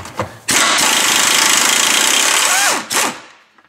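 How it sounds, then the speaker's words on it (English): An impact gun hammers a rusted 19 mm lower control arm bolt off a 2005–2010 Honda Odyssey, one loud, close, sustained rattling burst of about two and a half seconds, then a short final blip. "Sorry for the impact gun."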